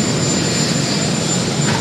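Presidential helicopter at JFK airport, a steady loud rotor and engine roar filling the whole stretch without pause, close by and continuous with no talk over it.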